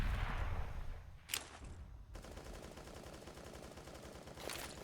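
Pistol gunfire from a professional Counter-Strike match on the Cache map, a few sharp distant shots and rapid bursts ringing over dense background game noise without any talk.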